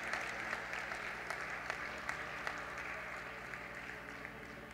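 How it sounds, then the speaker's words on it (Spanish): An audience applauds steadily at a school graduation ceremony at Colegio Notre Dame, a continuous wash of clapping at moderate distance with a few sharper claps standing out. "Un gran aplauso."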